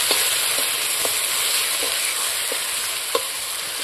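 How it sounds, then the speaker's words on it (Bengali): Masala stirred and mixed in a hot pan for an egg curry with cumin and garlic paste, a steady sizzle with soft regular scrapes of the spoon every half second or so. "মশলাটা আমি এখন ভালো করে মিক্স করব"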